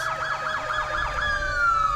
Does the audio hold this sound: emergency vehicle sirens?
yes